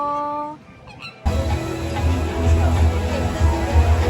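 Loud honking calls of flamingos at SeaWorld San Diego, nearby and overlapping amid crowd noise, after a brief quieter moment with a voice.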